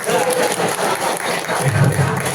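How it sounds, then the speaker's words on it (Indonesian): Audience applause at a fire-fighting training session, a steady wash of clapping from a crowd filling the room, moderately loud and continuous. "Buat tepuk tangan untuk sulap biru."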